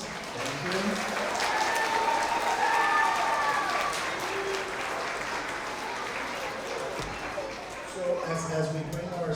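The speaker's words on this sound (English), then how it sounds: "let's just have one big round of applause for our kiddos" Applause for kindergarten award recipients at a K–2nd spring school awards assembly: a sustained crowd of clapping hands, steady and fairly loud, with voices of children and adults mixed into the room.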